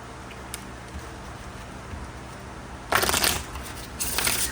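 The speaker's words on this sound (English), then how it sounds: "Let's hit you with a shuffle first." Tarot cards being shuffled by hand, a quiet stretch followed by two loud, close riffling bursts of crisp card flutter.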